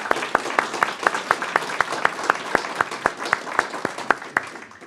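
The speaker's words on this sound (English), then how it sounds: "Let's give a round of applause for him." A round of applause at a school board meeting, with sharp, evenly spaced claps from a nearby pair of hands standing out over softer clapping from a small group.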